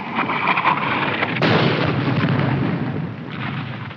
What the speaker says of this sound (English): Where's that Jap artillery?